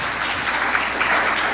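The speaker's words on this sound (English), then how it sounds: "A proper round of applause to" Steady applause from the audience at an East African investment conference hall, a dense, even clatter of many hands continuing throughout at close range.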